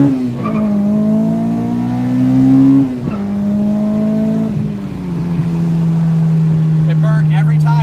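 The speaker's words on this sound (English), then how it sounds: "You're going to hear VTEC now." A Honda Integra Type R with a K20A engine revs hard and climbs into VTEC at a roadside stop, a loud, near engine note rising in pitch through several pulls with brief drops between them as people talk nearby.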